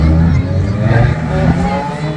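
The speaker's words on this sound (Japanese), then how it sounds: "この360も結構いい音してるからね。 フェラーリサウンド" A Ferrari 360 sports car engine revs nearby, its throaty rising and falling tone loud and continuous, with voices talking over it.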